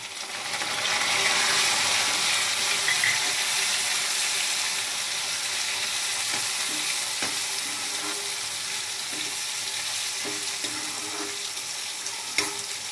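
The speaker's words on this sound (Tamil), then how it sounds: "வெங்காயம் இந்த மாதிரி வதங்கணும்" Onions sautéing in a pan while being browned for a fenugreek kuzhambu, a continuous close sizzle and crackle with occasional faint clicks of the spoon, no voices.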